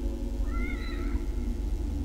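A single black cat in the horror game The Evil Within meows once, a short rising-and-falling cry over a low droning game ambience.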